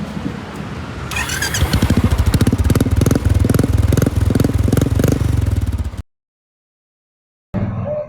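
A used motorcycle with 13,000 km on it, started and running loud and close. It revs rhythmically for several seconds before cutting off, then falls silent before a brief return of sound.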